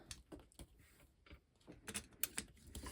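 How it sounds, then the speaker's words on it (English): Junk journal pages being cut with a blade in slow, careful passes, giving a series of short dry scraping and clicking strokes at close range, with no talking. "I'm just going to go nice and easy, cut through all the pages"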